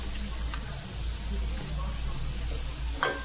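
Fish simmering and frying in a bubbling mustard and cumin spice sauce in a pan, a continuous close sizzle with a low hum and one sharp clink of a utensil near the end.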